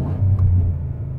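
Car engine in its stock throttle settings, revving during a throttle response test, heard as a steady low rumbling drone that holds fairly loud and even throughout, with no talking.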